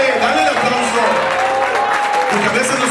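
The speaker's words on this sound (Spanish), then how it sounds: "Alábale, alábale, dale el aplauso." A church congregation claps loudly and continuously throughout, a dense crowd applause with a preacher's voice carrying over it.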